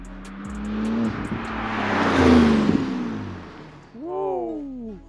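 Sports car, a Ferrari 488 Pista or Porsche 911 GT2 RS, accelerating hard past on a track, a loud rising roar that swells and fades, followed by a sharp higher-pitched rev climbing through gears at the end.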